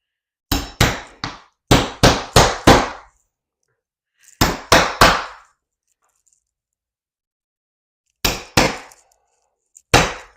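Sharp hammer taps in quick clusters of three or four, driving small pins into model railway track, ringing briefly, separated by pauses of silence; close and fairly loud.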